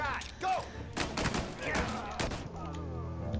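Sawed-off shotgun blasts in a mafia video game, a few heavy booming shots amid scattered gunfire, with voices talking over the action.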